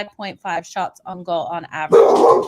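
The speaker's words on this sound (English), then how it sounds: "maybe the dogs are barking today, you guys. Apologies for my dog." Someone talks at a home setup before a house dog breaks in with a loud, close, rough bark at the end, the bark briefly overlapping his voice.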